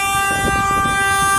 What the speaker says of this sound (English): I'll never understand people who stand and honk.